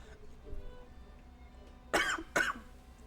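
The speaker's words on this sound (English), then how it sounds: "Just a sudden cough." Two sudden sharp coughs close to the microphone, one right after the other, breaking an otherwise quiet background.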